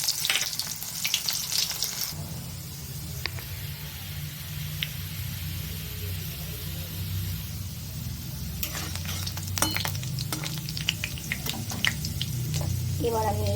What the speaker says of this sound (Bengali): আমি এই তেলটার মধ্যে জিরে দিয়ে দিচ্ছি কটা, আর দিয়ে দিলাম পেঁয়াজ